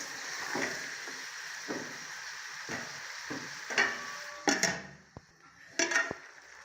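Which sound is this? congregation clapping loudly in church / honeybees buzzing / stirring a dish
stirring a dish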